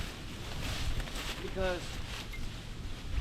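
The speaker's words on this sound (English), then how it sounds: "Whew, windy." Wind gusts roar steadily across an outdoor build site at a toilet-paper shelter, buffeting the microphone throughout, with someone speaking briefly over the noise.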